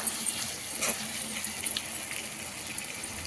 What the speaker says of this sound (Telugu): పచ్చిమిరపకాయది స్మెల్ పోయే వరకు కొంచెం బాగా ఫ్రై చేసుకోవాలండి